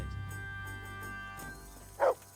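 A dog in the medieval video game Kingdom Come: Deliverance gives a single short, close bark near the end, after a quiet stretch of low game ambience.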